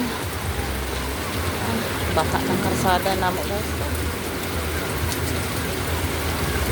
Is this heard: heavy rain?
yes